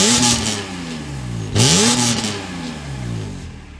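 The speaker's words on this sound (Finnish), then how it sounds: "millaista metakkaa remmiahdettu petroli ja pakokaasuahdettu dieseli tuottaa" Supercharged petrol and turbocharged diesel BMW engines rev hard at a drag-racing event, loud and close, with rising and falling pitch sweeps as the throttle is blipped.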